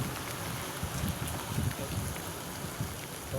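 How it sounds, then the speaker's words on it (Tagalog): Steady heavy rain hisses across the whole clip, a dense wash of noise with low rumbling underneath and faint voices in the background, during flooding and a 4.9 ft high tide in Calumpit, Bulacan. "Ayan, malakas na naman ang ulan"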